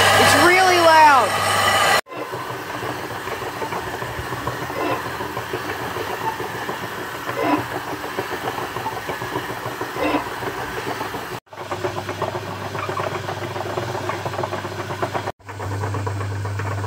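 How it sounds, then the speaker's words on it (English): A homemade telescope mirror grinding machine driven by a half horsepower motor rough-grinds a 10-inch f3 mirror at 60 grit, a loud continuous rumbling, scraping drone with brief cuts in the sound. "I'm making the 10-inch f3 telescope mirror on my homemade grinding machine using a half horsepower motor."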